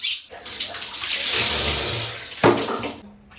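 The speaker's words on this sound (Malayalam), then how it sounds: "വെള്ളം നിറയണ്ടേ എനിക്ക് കുളിക്കാൻ" A tap runs full force to fill water for a bath, a loud steady rushing gush after a quiet start, briefly splashing louder near the end before it cuts off to near quiet.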